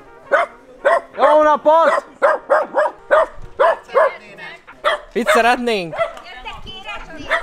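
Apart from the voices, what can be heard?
dogs barking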